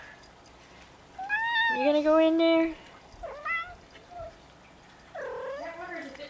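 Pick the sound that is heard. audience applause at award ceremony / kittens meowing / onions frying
kittens meowing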